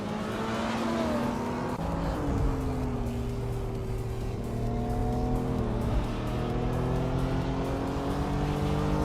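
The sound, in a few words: race cars starting a race, racing video game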